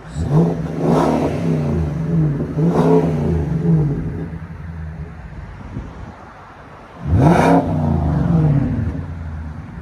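A 2020 Nissan Armada Platinum with a 5.6L V8 and Magnaflow Magnapack exhaust revs three times, loud and close, each throaty rise settling back to a rumbling idle.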